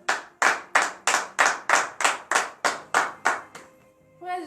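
A congregation at a Saturday morning prayer service in Benin claps in slow, steady unison, about a dozen loud, even beats. The clapping then stops and a brief tonal sound follows. No cheering voices stand out.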